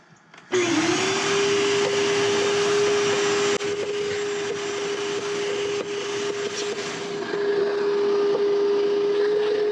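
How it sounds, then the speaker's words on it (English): A vacuum cleaner switches on with a jolt and runs steadily, loud and close, with a constant droning whine that holds for several seconds without pause, used while servicing a German Buderus boiler. "And hit the vacuum again."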